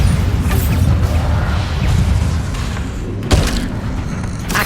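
Bombarda spell explosions in the Hogwarts Legacy game, a sustained loud crashing rumble with thuds and debris, and a sharp heavier impact near the end.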